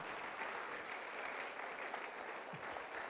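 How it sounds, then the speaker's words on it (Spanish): A church congregation gives a round of applause during a Spanish-language sermon, steady massed clapping at moderate level echoing through the hall without pause. "déle una ofrenda de palmas esta mañana"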